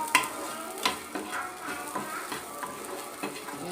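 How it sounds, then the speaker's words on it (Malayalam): Chillies stirred in a hot pan for a Kerala egg dish, a continuous light sizzle with rhythmic spoon scrapes and clinks against the metal every half second or so, close by and without speech. "അതും കൂടി ഇട്ടൊന്ന് ഇളക്കാം"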